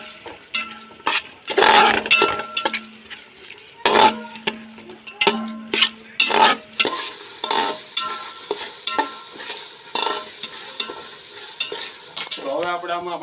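Spoon stirring dal tadka in a metal pot while it sizzles, in repeated scraping strokes with occasional clinks of utensil on the pot, loud and close, with no talking.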